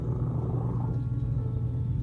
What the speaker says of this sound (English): Do you hear those purrs right now?